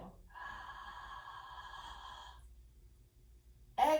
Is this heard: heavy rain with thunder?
no